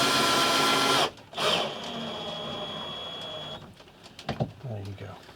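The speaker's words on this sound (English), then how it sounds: "it's crucial that you drill this pine before fitting it" Power drill boring into pine for a camper van cupboard floor, a loud steady whine for the first second, then a second burst and a sustained lower drone that fades into clunks and handling noises.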